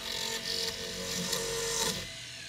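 A flex shaft rotary tool with a round burr grinds into a block of compressed charcoal, giving a faint, steady high whir with a few brief scratchy bursts, alone without talk.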